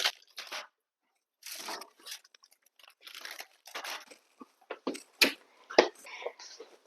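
Crispy-crusted Polish potato bread is handled fresh out of the oven, making close, irregular crackling and crunching bursts separated by short pauses, some sharp and loud.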